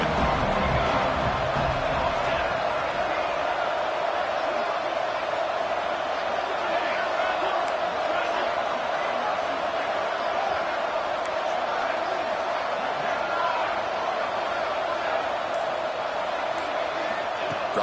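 A football stadium crowd roars on third down, a steady, dense wall of cheering and noise that holds at an even level throughout, with a commentator talking over it.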